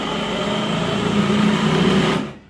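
A Bosch GBH18V-26F cordless rotary hammer runs on its slow soft-start mode, a steady whirring motor hum that rises gently in pitch over a couple of seconds before quickly winding down at the end, heard alone without talk.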